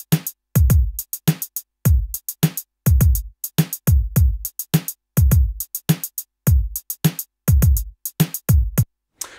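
Programmed drum beat in Logic Pro X Ultrabeat with a running closed hi-hat sequence over kick and snare hits, crisp, dry and repetitive in a steady pattern, with no talking.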